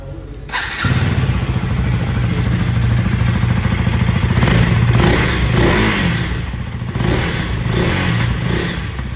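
A 2024 KTM Duke 250 with a liquid-cooled engine and underbelly exhaust fires up close by, a thump at start then a steady loud idle with a few light blips of the throttle, no one talking.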